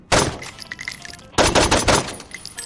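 Rapid bursts of video game gunfire from Saints Row 2, loud and close, two clustered volleys with a brief gap between them.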